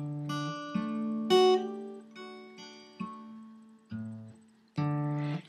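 An acoustic guitar plays an arpeggiated picking pattern for Amazing Grace, beginning on D. Single plucked notes ring out one after another in a slow, uneven rhythm, close and clear, with no talking.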